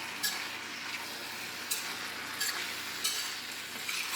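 Beef chili colorado simmers and sizzles in a pot while a utensil stirs it, giving a soft, steady bubbling hiss with a few faint scraping taps.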